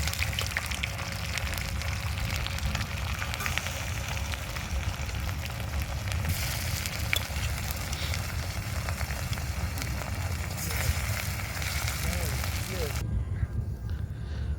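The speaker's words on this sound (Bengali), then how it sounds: "শুরু হয়ে গেছে মাছ ভাজা।" Fish frying over an outdoor fire on a Meghna river char, a soft crackling sizzle beneath steady outdoor ambience and nearby voices, fairly faint and continuous.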